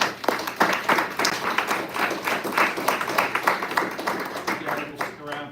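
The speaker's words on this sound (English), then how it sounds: "let's give them a round of applause here" Students at a high school presentation on HVAC and electrical trades applaud the presenters, a dense, continuous round of clapping from a room full of hands that fades out toward the end.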